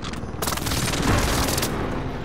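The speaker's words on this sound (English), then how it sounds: "Airstrike mission on route." An airstrike explosion in Call of Duty Modern Warfare lands as a loud, dense rumbling boom with crackling debris, sustained across the whole moment without speech.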